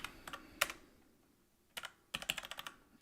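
Sparse, crisp keystrokes on a computer keyboard in a quiet room, a few isolated taps followed by a quicker cluster of clicks near the end.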